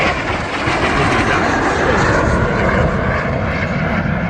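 Vintage jet airplanes taxi and reposition at an air show, a loud, continuous roar of jet engines close by that holds steady throughout, with no talk.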